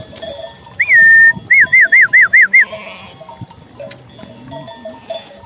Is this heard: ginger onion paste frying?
no